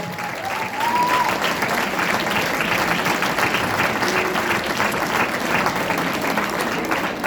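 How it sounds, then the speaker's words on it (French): Steady audience applause fills a theatre during its inauguration, dense clapping from many hands that holds loud and even throughout, with a brief whistle-like tone near the start. "Je vous invite à applaudir non seulement les artistes qui sont ici"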